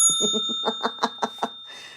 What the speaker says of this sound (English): Oh, they need the bell.